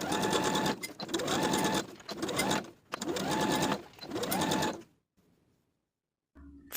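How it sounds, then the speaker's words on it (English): A sewing machine stitches a cuff onto the bottom of a sweatshirt sleeve in four rapid whirring runs separated by brief pauses, then falls silent. "Sew the cuff to the bottom of the sleeve with a 3/8 inch seam allowance."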